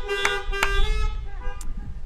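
Car horns honk at a drive-in church service, a few short toots and a sustained tonal blare rising over low idling engine rumble, fairly close and loud.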